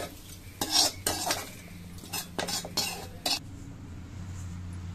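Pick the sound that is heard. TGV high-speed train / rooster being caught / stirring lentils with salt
stirring lentils with salt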